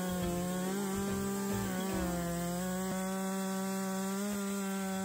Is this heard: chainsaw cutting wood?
yes